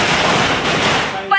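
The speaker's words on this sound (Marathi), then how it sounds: "पंचीच्या बोनसचे फटाके." Diwali firecrackers burst in a rapid, loud, dense crackling volley, close by, filling the whole short stretch.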